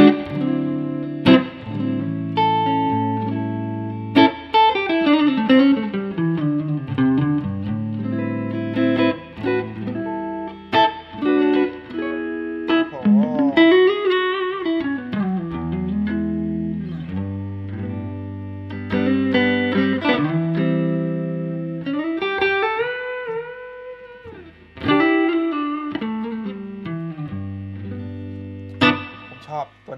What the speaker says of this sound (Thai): ตัวนี้เป็นเสียง Morning Glory ของ JDS นะครับเขาจะจำลองพวกที่เป็น Blue Breaker